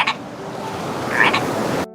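Giant yellow toads from Green Island croak in a short, close burst of rough calls, heard alone over soft ambient noise before an abrupt cutoff.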